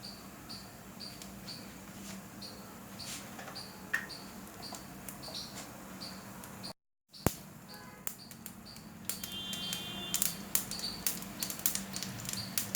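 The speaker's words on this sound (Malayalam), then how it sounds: "അപ്പോൾ കടുക് പൊട്ടി വരുന്നുണ്ട്." Mustard seeds pop in hot oil, giving sparse, sharp crackles and ticks over a faint hiss, near and quiet, with a short gap of silence midway and busier popping toward the end.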